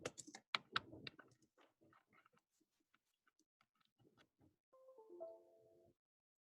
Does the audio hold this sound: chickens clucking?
no